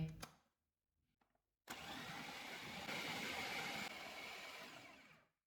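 A small electric food chopper whirs steadily for a few seconds after a brief pause, chopping boiled chickpeas, then winds down to a stop.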